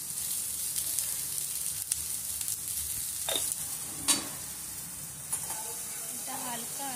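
Okra (ladies finger) fries slowly in a pan with a steady soft sizzle and hiss, broken by a few clinks and stirring scrapes.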